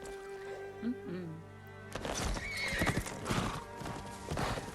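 A horse whinnies faintly, then hooves clatter loudly and rhythmically at close range, with some rustling movement.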